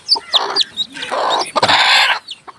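Close, loud clucking from a native village hen in several short bursts, with a few high chirps from her newly hatched chicks between the calls.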